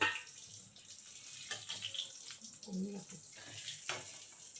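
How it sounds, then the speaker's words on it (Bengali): Dal puri dropped into overheated deep oil, giving a steady, hissing sizzle that runs throughout at moderate volume, close by, with a few faint knocks and a brief voice in the background. "তো দেখুন আরেকটা ছাড়ছি।"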